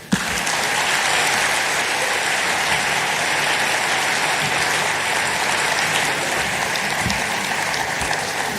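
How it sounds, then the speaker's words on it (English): A large conference audience applauds steadily at the Africa Climate Summit in Nairobi, sustained dense clapping filling the hall from start to end without pause. "A bigger round of applause, please, as they take their seats."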